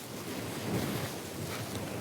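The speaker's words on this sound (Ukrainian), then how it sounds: "З цієї сторони дуже сильний вітер." Strong wind blusters across the microphone at a shoreline perch-fishing spot, a dense, continuous roar with no clear gusts, steady throughout.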